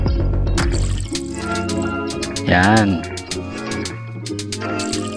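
Water fills up in a mobile game as grass is collected, producing bubbly liquid and dripping effects. A rising, gurgling pour stands out in the middle, over steady game tones, and a voice speaks briefly.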